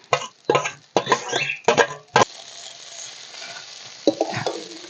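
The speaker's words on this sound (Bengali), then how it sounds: "ডিম সবজি যে ভেজে রেখেছিলাম আগে থেকে সবগুলো একসাথে দিয়ে দিচ্ছি।" Fried egg and vegetables go into a pan of egg chow mein. A few short bursts of sound come first, then a steady, moderate frying sizzle with soft stirring carries through to the end.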